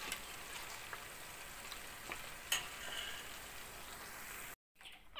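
İçli köfte frying in a hot pan, giving a steady close sizzle and crackle with a few louder pops, cutting off briefly near the end.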